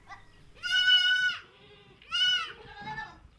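Goats on a small Eritrean family farm give two loud, nasal bleats about a second apart. Fainter grunting and bleating follow, with light farmyard background between them.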